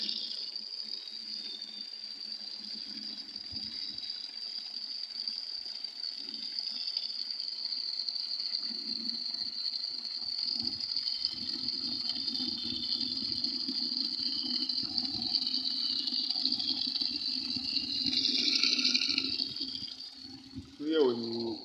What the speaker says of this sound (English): we're adding more water.